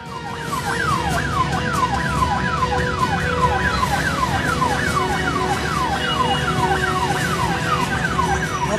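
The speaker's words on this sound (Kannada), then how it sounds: "ಅದೇ ಸಮಯಕ್ಕೆ ಈ ಆಂಬ್ಯುಲೆನ್ಸ್ ಅದೇ ರಸ್ತೆಯಲ್ಲಿ ಬಂದಿದೆ" An ambulance siren wails continuously and loudly through a Hyderabad traffic jam on the road between GPO junction and Andhra Bank, its rising and falling sweep repeating over steady traffic noise.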